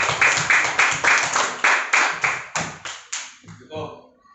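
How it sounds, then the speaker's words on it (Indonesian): A classroom group claps together, a dense run of hand claps in rhythmic bursts that thins out and fades over about four seconds, with no talking over it. "Kita ucapkan terima kasih dan kasih tepuk tangan semua."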